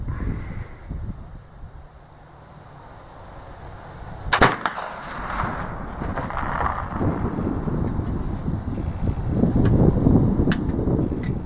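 A single loud muzzle-loading shot from a Euroarms Kentucky flintlock rifle outdoors, a sharp crack followed by a long rumbling tail amid gusty wind noise on the microphone.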